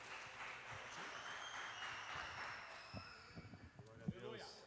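A church congregation at a Pentecostal worship service applauds in a sustained wash of clapping, with a few louder individual claps standing out near the end.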